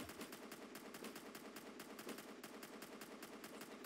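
Artillery in Roblox Tower Defense X firing in a fast, steady repeating rhythm, a quiet, even string of sharp shots heard from some distance.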